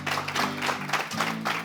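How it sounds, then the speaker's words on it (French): Applause from a studio audience at a televised grand final, a steady wash of clapping over a low musical backing tone, fairly faint and continuous. "notre cher candidat Abalo Hubert, que j'aimerais qu'on puisse applaudir, s'il vous plaît."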